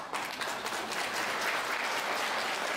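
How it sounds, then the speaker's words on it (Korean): Wedding guests in a Seoul wedding hall applaud the bride and groom as they march out, with dense, continuous clapping from a large crowd filling the room. "다시 한번 뜨거운 박수로 두 사람을 축복해 주시기 바랍니다."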